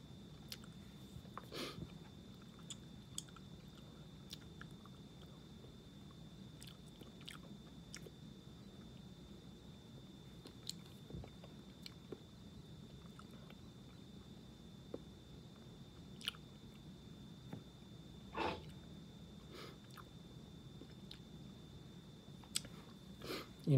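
Someone slowly chews Members Mark cherry fruity snacks close to the microphone, making faint, scattered wet clicks and squishes over a quiet, steady hum.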